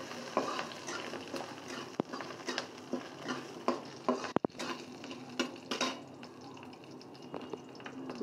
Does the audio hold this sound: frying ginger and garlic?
yes